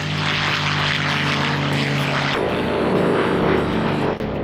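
Propeller warplanes fly over the Oshkosh airshow, a loud sustained droning engine roar with a buzzing prop tone that shifts pitch midway as an aircraft passes, close and alone without any speech.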